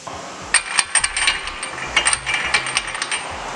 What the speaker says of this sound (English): Use a 21mm socket and break loose the lug nuts on both sides